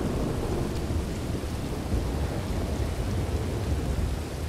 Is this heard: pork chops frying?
no